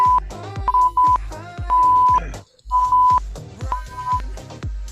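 Workout interval timer beeps sound in short repeated pulses and a few longer held tones over a pounding music beat, loud and close.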